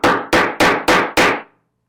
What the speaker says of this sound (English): You take the applicator or setter. Setter, thank you, and use the whacker.